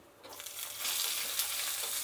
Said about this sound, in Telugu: ఇది వేగిన తర్వాత ఎర్రగడ్డలు